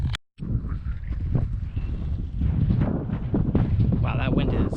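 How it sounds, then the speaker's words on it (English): Strong, gusty wind buffets the microphone throughout, a rough low roar that swells and drops with the gusts, broken by a brief dropout near the start. "Wow, that wind is something else."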